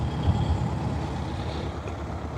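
A road vehicle's engine rumbles low and steady from inside during a drive, ending in a sudden loud thump.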